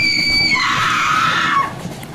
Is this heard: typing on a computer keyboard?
no